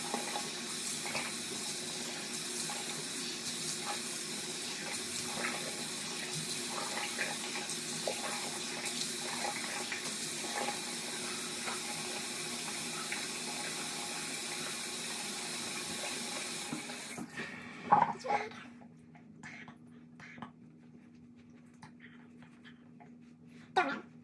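Tap water runs steadily into a sink for about seventeen seconds while a face is rinsed during a skincare routine, then cuts off, leaving a few faint splashes and drips in a quiet room.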